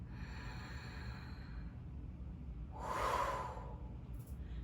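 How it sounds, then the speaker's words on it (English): One deep, forceful yoga exhale stands out from a faint hushed background, a single breathy rush lasting under a second, with no speech. "Inhale pranic energy. Exhale the anger."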